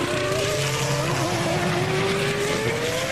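Formula 1 car on Michelin tyres lapping Suzuka during 2002 practice, a loud, high engine note rising steadily as it passes close by, with broadband track noise beneath and no talk.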